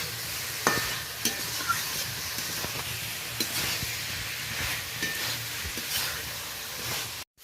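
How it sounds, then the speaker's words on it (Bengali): Minced egg and spices fry in a pan with a constant close sizzle and repeated scraping strokes of a spoon stirring. The sound cuts off sharply at the end. "ভালো করে মশলার সাথে নাড়াচাড়া করে নিলাম।"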